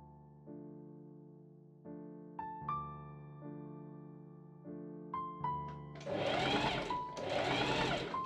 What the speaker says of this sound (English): I machine sew the sleeve seam from mark to mark.